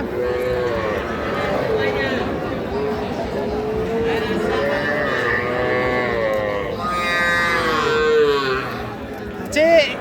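A calf moos in long drawn-out calls again and again at a busy cattle market, with other cattle lowing and people chattering around it.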